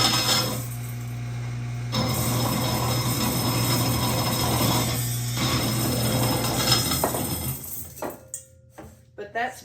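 An electric motor fitted to a Grain Maker 99 grain mill runs with a steady, loud hum and a rattling mechanical grind, then cuts out and leaves a few scattered knocks and clicks.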